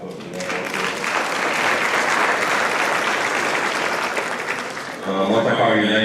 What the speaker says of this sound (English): I'm going to give him a clap up for that